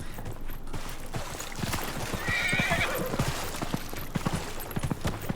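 In the video game Dragon Age Inquisition, a horse gives a loud whinny while its hooves clip-clop in a steady rhythm over the ground.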